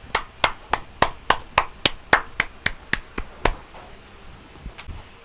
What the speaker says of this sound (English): Let us clap our hands for Brian.